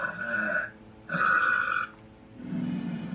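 A girl burps loudly on command after drinking soda: two long, voiced belches close to the mic, then a third, deeper and rougher, with short pauses between them.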